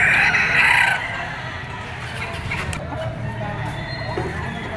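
Bullstag rooster of Picom bloodline at a poultry market in Padre Garcia, Batangas, crowing once loudly at the start, then faint clucking amid market noise while someone talks.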